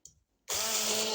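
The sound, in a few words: grinder grinding mint and coriander chutney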